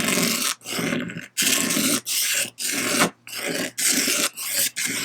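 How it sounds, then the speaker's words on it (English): Rasping scrape of a tool stripping the weathered outer layer off jet ski plastic down to fresh material, loud close strokes repeating in about eight bursts with brief pauses between. "you're just scraping off the outer layer to get down to the fresh plastic"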